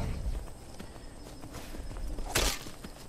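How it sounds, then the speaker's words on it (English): Horse hooves while riding in the Skyrim video game, a steady clip-clop of footfalls over a soft outdoor ambience, with one louder scuffing burst near the end. "We'll just horseback ride there."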